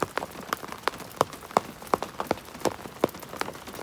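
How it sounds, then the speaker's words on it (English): Rain drops tap and splash on pavement in an irregular patter, with louder individual drips standing out over a soft, steady rain. "But it's been raining all night last night and all day today."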